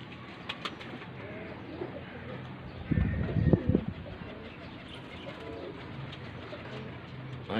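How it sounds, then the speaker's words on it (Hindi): Pigeons cooing and moving about a rooftop loft in Faisalabad during training of young birds, with soft low coos that swell into a fuller burst of cooing midway and faint chirps in the background. "ओ ऊपर से भी आ गए हमारे कबूतर।"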